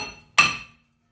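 A single sharp metallic strike rings out as a hammer taps a brake rotor on a Honda Fit front hub, a loud close clank that decays quickly into silence.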